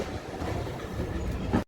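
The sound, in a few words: Lake District train ride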